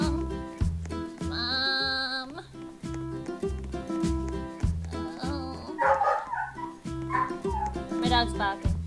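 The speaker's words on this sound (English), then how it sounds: "Dog's barking." A dog in a Roblox game barks and yips repeatedly, with a few whimpers, over steady tonal game music that plays throughout.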